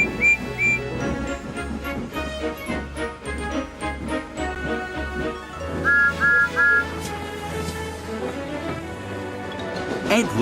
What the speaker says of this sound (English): Then Gordon whistled as he approached the station.